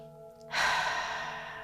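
A single long exhale during yoga arm circles, a soft breathy rush that starts abruptly and fades slowly over a faint steady hum.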